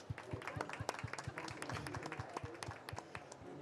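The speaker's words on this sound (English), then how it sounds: "Round of applause, everybody." Conference audience clapping for a speaker introduction at a clean energy event, a dense patter of many hands with a few sharper nearby claps, fairly quiet and distant.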